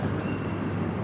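AVE high-speed train running out of Malaga, heard as a dense, steady rumble and roar with a faint high whine, constant and loud throughout a brief moment.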